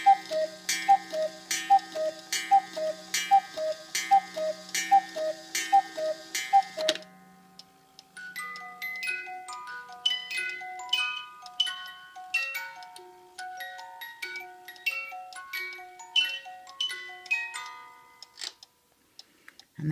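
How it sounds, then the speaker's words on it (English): A Hunter cuckoo clock with musical dancers ticks steadily with chiming notes for several seconds, then a tinkling music-box tune plays, heard alone and close with no talking. "This Hunter Cuckoo Clock plays two tunes, strikes on the hour and half hour."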